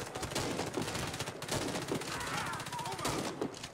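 Rapid, dense gunfire in the shooter game Warface, with shotgun blasts among continuous loud bursts and shots packed close together, layered over chaotic battle noise throughout.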